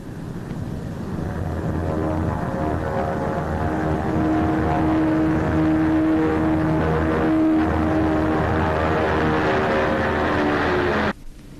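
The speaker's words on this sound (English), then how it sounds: "Now the huge vessel wings proudly over Farnborough on her 10 engines." The Saunders-Roe Princess flying boat, a huge ten-engined turboprop, drones overhead at the 1952 Farnborough airshow, a loud sustained propeller hum with a steady pitched whine that swells and holds before cutting off abruptly.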